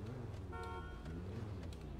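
A car horn in the GTA V video game honks once in a steady, sustained tone for about half a second over constant engine and game noise.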